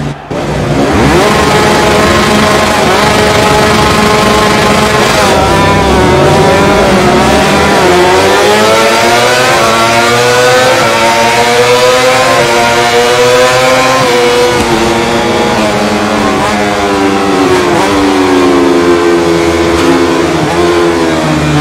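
MotoGP bikes rev on the Sepang circuit grid at the Malaysian Grand Prix in the MotoGP22 video game. A loud, continuous engine roar climbs and wavers in pitch as the throttles are blipped.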